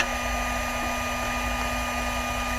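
A steady electrical hum from a campervan power inverter, with a constant tonal whine and broadband hiss, droning evenly throughout with no speech.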